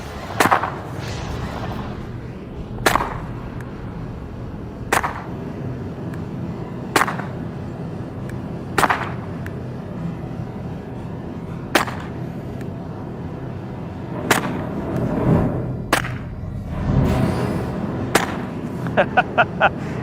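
Sharp, loud gunshots from 230 grain hollow point rounds fired at soda bottles crack out every two seconds or so, then come quicker and in a tight burst near the end, with some faint voices between shots.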